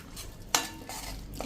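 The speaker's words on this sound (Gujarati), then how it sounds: "જે આપણે લોટ લીધો છે એમાંથી પહેલા 1 કપ લોટ મિક્સ કરી દેશું અને એને આપણે આ રીતે મિક્સ કરી લઈ" Spoon stirring corn flour into water in a pan on a medium gas flame, making dough for corn flatbread; soft scraping and sloshing strokes close by with a couple of louder knocks against the pan.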